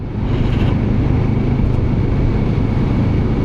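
A 2021 Kawasaki Vulcan S motorcycle engine drones low and steady while riding, mixed with rushing wind noise and no talking.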